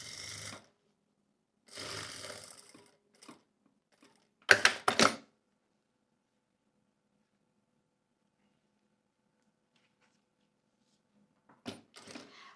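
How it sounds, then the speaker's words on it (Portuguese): Sewing machine stitching bias binding onto fabric, running in several short bursts separated by silent pauses, close and fairly quiet, with no talking. "Eu vou costurar com ele certinho até aqui."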